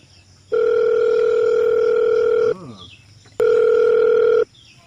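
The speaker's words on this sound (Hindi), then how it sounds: "जब कुछ करे लागा तो फोन घंटी बाजे लागा था।" A telephone rings twice, each a long steady electronic tone lasting about two seconds, separated by a short pause, clear and close.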